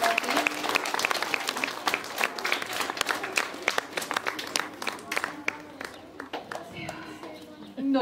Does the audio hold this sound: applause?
yes